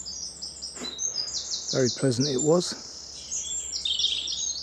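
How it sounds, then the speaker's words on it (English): Birds sing in a woodland near Haslemere in late March, with bright repeated chirps and trills throughout and someone speaking briefly over them. "Plenty of bird song here today"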